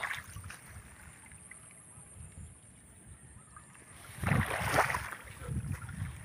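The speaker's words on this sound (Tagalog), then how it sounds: "Dire-diretso na yung tubig dito, umaagos." Steady rushing rainwater churns along a channel in a flooded farm field at a moderate level, swelling louder and more turbulent toward the end, with no talking.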